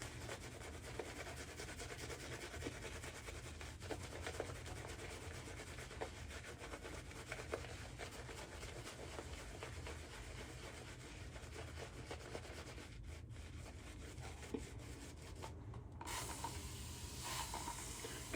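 A shaving brush scrubs lather onto the face during a wet shave with Stirling Hyper Aggressive and Fraternity 33 soaps, a steady close, soft bristly rubbing and swishing that runs unbroken, briefly thinning near the end.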